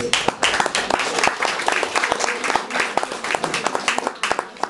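Audience at a poetry reading in Limerick applauding, with many hands clapping in a loud, close, crackling burst that stays fairly dense and steady for several seconds.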